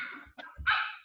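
Dogs let out a few short barks and yips indoors, close and moderately loud, with brief pauses between the bursts and no talking over them.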